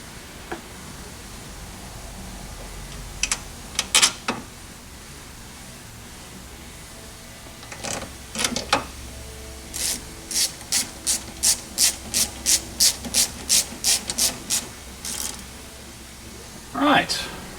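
Bolts on the steering of an old OBS Chevy truck are tightened with a ratchet, first in a few short bursts, then a long run of about a dozen evenly spaced clicking pulls, close and clear.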